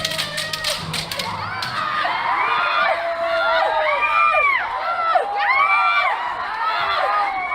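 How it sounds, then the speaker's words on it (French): A group of practitioners swing bamboo swords while letting out sharp, rising and falling kiai shouts, overlapping from several voices, with dull thuds and a crowd-like din throughout. "J'ai vu des bêtes étranges pousser des grands cris en agitant des bambous dans tous les sens."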